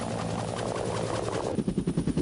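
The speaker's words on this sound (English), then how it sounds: "Marine variant of the AH-1 Cobra and forms the backbone of Marine attack helicopter units." AH-1 Cobra attack helicopter of the Marines, a steady broadband rotor and turbine roar that shifts into a pulsing, beating rhythm near the end, loud and close with no talk.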